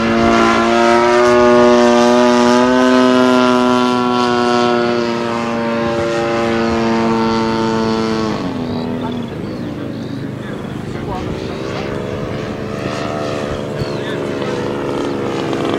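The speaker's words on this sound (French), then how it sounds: "Le Mustang P-51, une machine qui a été rendue célèbre" A radio-controlled model P-51 Mustang flies past at an RC air show in Senlis, its engine a loud, sustained droning whine that shifts pitch as it passes, with a commentator talking over it.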